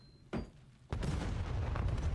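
A grenade explodes in a Call of Duty match, a short thump followed by a louder, sustained blast and rumbling debris.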